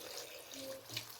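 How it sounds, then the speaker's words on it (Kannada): A little water poured into a pan of cumin and green chillies for a Kannada-style ridge gourd masskai, a brief soft watery splash and trickle lasting about a second, quiet and close. "ಒಂಚೂರು ನೀರು ಹಾಕಿ"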